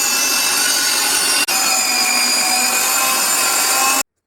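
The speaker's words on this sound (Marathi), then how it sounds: "आता हे राहिलेली गाजरे पण किसून घेते।" A food processor grates carrots with a loud, steady whirring grind. The sound runs continuously with a brief dropout near the middle, then stops abruptly.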